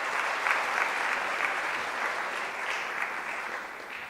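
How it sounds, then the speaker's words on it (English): A seated audience at a student entrepreneurship conference applauds a speaker in a sustained, even burst of clapping, moderately loud and steady throughout. "Can we give a round of applause for Mr."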